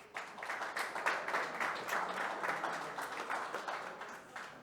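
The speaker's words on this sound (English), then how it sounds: "Let's give a round of applause to our panelists" A seated audience at a luxury builder panel in Greenwich applauds the panelists, steady moderate clapping from a mid-sized room that swells, holds and then tapers slightly at the close.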